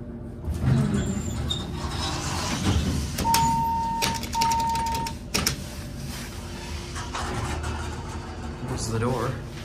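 Dover Impulse elevator door in a hospital building sliding with a mechanical rumble and clatter, a chime tone sounding midway, amid steady hallway background noise.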